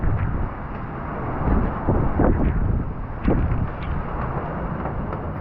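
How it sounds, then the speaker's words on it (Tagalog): Strong wind at the sea buffets the microphone in a continuous low roar, with gusty swells and sharp rumbling bursts throughout. "Lakas ng hangin."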